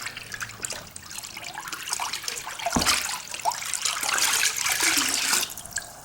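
Water runs and splashes while rinsing out a jug that held machine coolant, a continuous close gushing and trickling that swells and fades.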